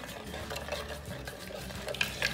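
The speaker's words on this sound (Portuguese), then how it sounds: "Vamos mexer bem até dissolver toda a gelatina." A spoon stirs strawberry gelatin from three sachets through liquid until it dissolves, a continuous close scraping and swishing against the bowl with a few light clinks near the end.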